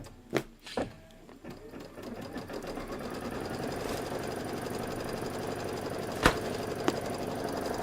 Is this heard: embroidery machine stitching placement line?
yes